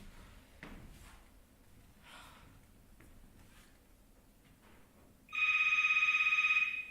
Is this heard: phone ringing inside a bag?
yes